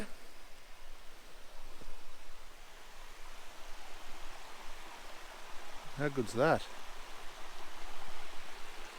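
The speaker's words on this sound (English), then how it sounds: "Waterfall up there." A waterfall in the gorge country of Karijini, Western Australia, gives off a soft, steady wash of falling water heard from a distance. Someone speaks briefly over it partway through.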